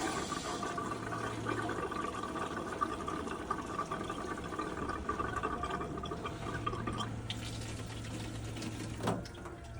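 Water flowing back into an RV's AquaGo water heater after the supply is turned on, a steady low rushing fill that runs quietly and evenly, with a slight change in tone near the end.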